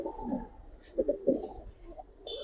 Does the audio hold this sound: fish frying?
no